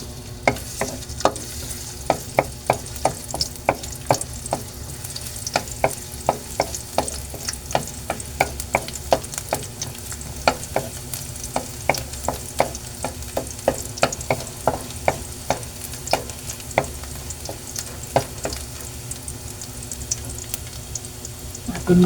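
Garlic sautés in hot cooking oil in a pan for chicken liver and gizzard adobo. A steady close sizzle runs under rhythmic utensil clicks and scrapes as it is stirred throughout, with no talking.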